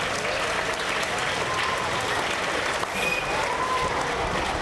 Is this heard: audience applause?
yes